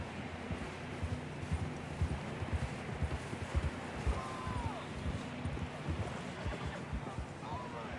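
Horse hooves beat a rapid, continuous galloping rhythm in Red Dead Redemption 2, running steady and close under a wind-like wash of background noise, with a brief voice-like sound partway through.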